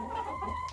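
Stressed laying hens just moved into a new pen, clucking close by in a short, agitated burst with no talk.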